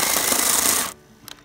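A battery-powered electric chainsaw cuts into a tree stump with a loud, steady, close buzz that stops abruptly after under a second, leaving near silence.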